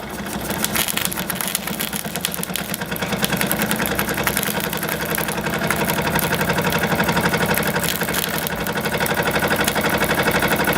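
A Jensen 76 model steam engine runs steadily, a dense rapid chuffing and mechanical whir held at constant loudness throughout, close by with no talking.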